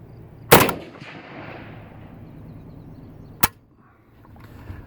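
Arsenal AK47 rifle firing outdoors, with two sharp, loud single shots a few seconds apart, each followed by a fading echo and no talk.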